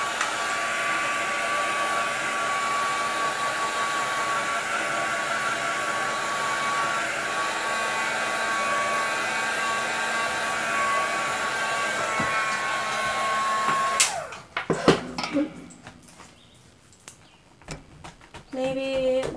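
Heat tool blowing hot air to dry paint on an art journal page: a steady, close whooshing roar with a fan whine that runs for about fourteen seconds, then cuts off into scattered handling clicks and rustles.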